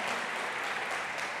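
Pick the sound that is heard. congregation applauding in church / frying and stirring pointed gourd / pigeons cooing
congregation applauding in church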